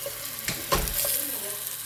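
Sausage sizzles in a pan on the stovetop while being prepared for a home seafood boil, a steady close frying hiss with a couple of brief stirring scrapes near the middle.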